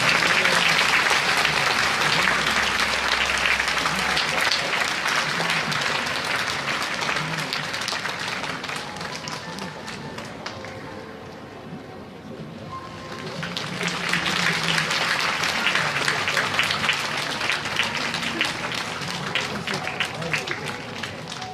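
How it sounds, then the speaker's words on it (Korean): Audience applause welcomes beneficiaries entering a hall at a 2018 welfare budget rally, a dense sustained clapping that dips midway, then swells back strongly and continues. "박수로 환영해 주시기 바랍니다."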